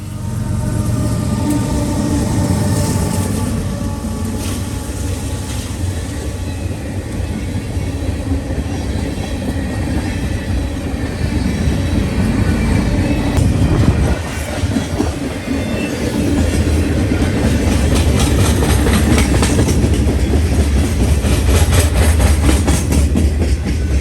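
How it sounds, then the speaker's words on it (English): Freight train 179 with a KCS de Mexico locomotive rolls past outdoors in winter, a long continuous rumble of wagons with rhythmic wheel clatter and occasional squeal, loud and steady throughout. "I ended up accidentally bumping into 179 with a KCS de Mexico unit."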